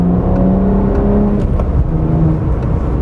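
A 2012 BMW 1 Series M Coupé accelerating from 50 to 100 km/h, a steady loud engine drone with rising tones heard from inside the car, with no talking.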